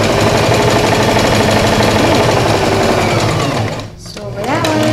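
A sewing machine stitches elastic into a garment, its loud, rapid mechanical whir running continuously, briefly slowing to a stop near the end, then starting again.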